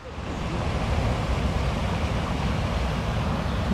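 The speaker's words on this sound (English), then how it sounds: "Some quite nice waterfalls here." Steady rushing roar of waterfalls beside the Brecon and Abergavenny canal, a dense, unbroken wash of falling water heard loud and close without pause.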